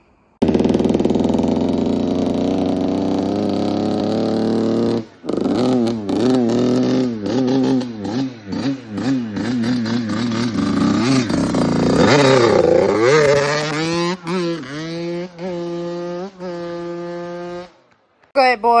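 A Yamaha YZ85 dirt bike engine runs laps, revving hard with rising and falling pitch through gear changes, loud and continuous, with brief dips as the throttle closes.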